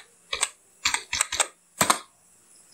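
Keywords typed on a computer keyboard in a Blogger search box, with short close bursts of clicking keys in uneven clusters separated by brief pauses.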